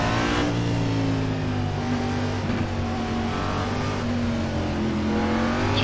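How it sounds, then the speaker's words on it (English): A NASCAR race car in the iRacing sim holds a loud, steady engine drone with its pitch rising and falling slightly as it revs, continuous and close throughout. "Now the engine's pretty loud."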